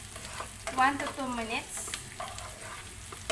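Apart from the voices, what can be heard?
sauteing chopped garlic and green chili in a pan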